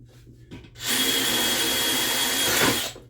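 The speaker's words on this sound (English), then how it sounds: "drill several holes in the base so that any water, moisture gets in there" A power drill with a 3/8 bit whirs loudly and steadily for about two seconds as it bores drainage holes into the wooden base of a duck house, then winds down.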